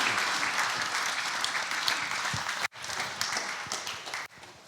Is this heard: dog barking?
no